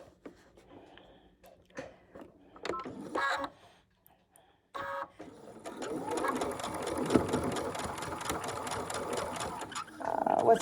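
After a few quiet handling clicks and rustles, a sewing machine starts and base-stitches a thick kitchen towel, running close and steady with a rapid mechanical whir until the end.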